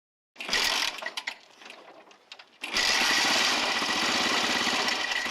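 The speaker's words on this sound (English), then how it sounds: "Okay, start the engine." An early Honda motorcycle engine, its carburetor just modified, starts after a brief rough burst and settles into a loud, steady, close running drone.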